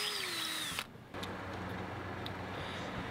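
A power drill boring quarter-inch holes through clamped parts for a homemade drill press head, a steady mechanical whine that pauses briefly near the start and then runs on continuously, close and moderately loud.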